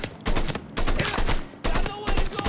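Loud, dense gunfire from the Mafia III video game: rapid automatic bursts and overlapping shots in repeated waves, with short gaps between volleys.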